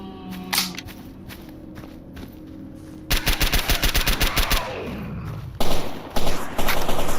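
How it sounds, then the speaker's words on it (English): Rapid bursts of machine gun fire in STALKER Anomaly at the Jupiter Underground entrance, loud clustered shots in quick rhythm with a pause and then further heavy volleys, footsteps and ambient noise between them. "He's just gonna keep firing until he runs out of ammunition"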